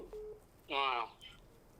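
A single short electronic phone tone sounds faintly on the line during a call to an agricultural extension officer that goes unanswered, followed by quiet.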